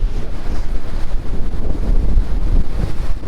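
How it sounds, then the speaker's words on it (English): Strong wind blows over Sonora Pass in the mountains of California, a loud, continuous gusting roar hitting the microphone, with no one speaking. "when we came over the other side of the hill, the wind kept going"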